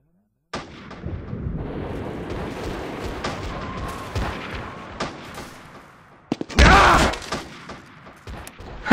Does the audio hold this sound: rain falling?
no